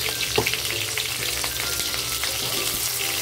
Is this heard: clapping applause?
no